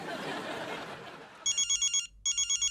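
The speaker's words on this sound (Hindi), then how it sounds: "मोंटू का फोन है, उठाओ" A telephone rings in a bright, repeating electronic trill of short pulses, a pause, then more pulses, following a stretch of noisy background with faint laughter.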